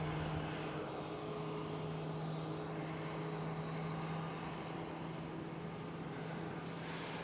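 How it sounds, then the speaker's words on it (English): A KLM Embraer E195-E2 CityHopper jet taxis past at Amsterdam Schiphol airport, a steady, moderately distant engine drone with a low hum throughout and faint higher whines drifting in and out. "E195 E2 of KLM, city hopper, taxiing by."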